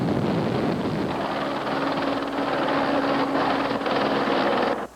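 Two helicopters carrying water tanks to fight a fire near a site holding toxic, flammable products; a loud, steady rotor roar with wind noise that cuts off abruptly at the end.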